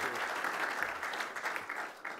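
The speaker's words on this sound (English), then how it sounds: "Could we have a big round of applause for our three panelists?" Applause from a conference audience at a horseracing open forum, thanking three panelists. The clapping is soft, steady and distant-sounding, and lasts the whole moment.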